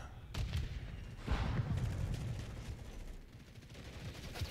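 Superi 46 submachine gun in a video game fires in rapid bursts, dense rattling shots with booming lows, continuous across the clip with brief gaps and faint game noise underneath.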